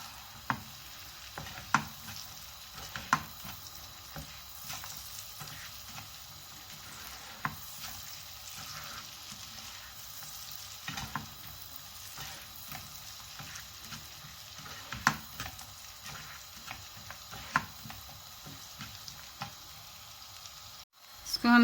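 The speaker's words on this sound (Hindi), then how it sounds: "फ्राई सा करना है इसको ऑयल में।" Vermicelli frying in oil over low heat for a sweet dish, with a soft continuous sizzle broken by frequent stirring scrapes and clinks, fairly faint and close, with no talking.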